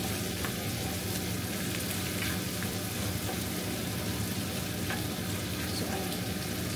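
Garlic and butter sizzle and fry in a pan, a dense, steady crackle with a few light stirring clicks, close and continuous with no speech.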